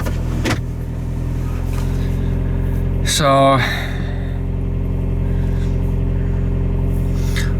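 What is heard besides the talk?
2005 VW Passat TDI diesel engine running after cold start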